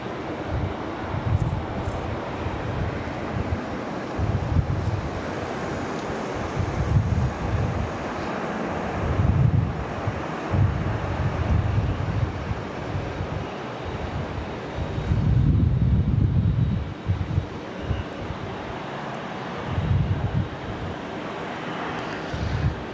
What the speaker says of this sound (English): And the wind is pretty high.